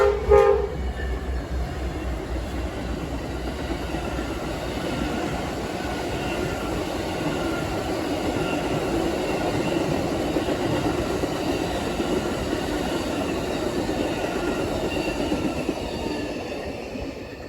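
A CSX freight train rolls past at Brunswick Yard, Maryland, with a horn blast at the start and then a long steady rumble and clatter of wagons, loud and close throughout with no talk.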